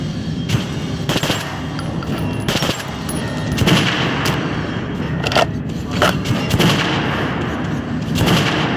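Rapid bursts of gunfire from a first-person shooter, Metro Last Light Redux, crack in a dense, loud volley with repeated sharp shots and short gaps over a steady noisy background.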